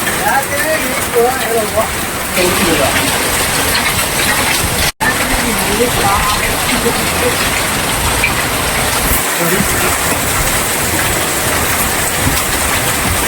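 Hail and heavy rain pour down steadily in the Sankarankovil area, a dense, continuous hiss and patter close by that lasts throughout, with one brief dropout midway.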